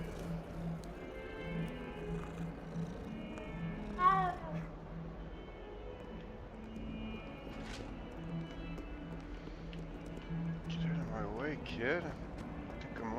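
A cat in a Hogwarts video game meows a few times, short tonal calls that rise and fall, heard faintly over game background sounds and footsteps while a voice speaks.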